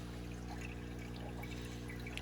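Water spills steadily over the rim of a full nano planted aquarium, a faint continuous trickle against a low steady hum.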